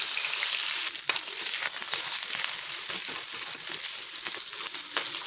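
Onion dropped into hot oil in a kadai, a loud, dense crackling sizzle that runs steadily throughout with small popping spatters.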